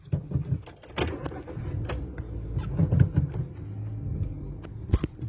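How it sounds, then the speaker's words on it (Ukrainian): A car pulls up in a vehicle queue at a border crossing, a low engine rumble with clicks, knocks and mechanical clunks scattered over it, nearby and moderate. "а вот эта машина сейчас подъехала и пытается стать на его место"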